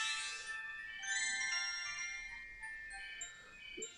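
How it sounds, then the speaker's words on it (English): A phone rings steadily, a bright electronic ringtone chiming on and off at moderate volume over a quiet room, without any talking. "oh, the phone's going like crazy today."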